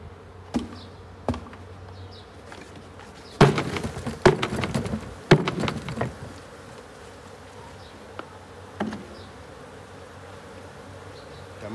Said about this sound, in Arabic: بس مجموعة نحل راح نفضى الحين ونحطها في الخلية الثانية